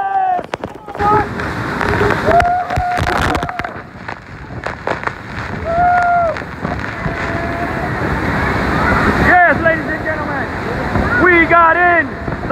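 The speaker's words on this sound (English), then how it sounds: "We got in the waterfall, reporting live to you" Rushing water roars steadily beneath a waterfall, a loud continuous wash with wind buffeting the microphone, while excited voices shout and talk over it throughout.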